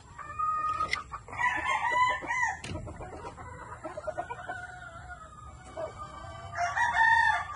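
Sweater gamecock rooster crowing up close, loud repeated crows with clucking between them, set against outdoor background noise.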